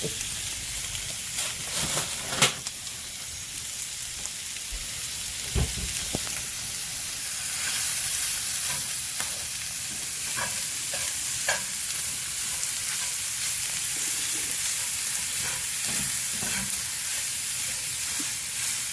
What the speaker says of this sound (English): just let this ground pork brown